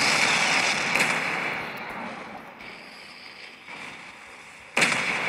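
Battleship guns fire in World of Warships, a 15-inch front gun salvo booming near the start with another sharp blast near the end, a long rumbling decay between the two.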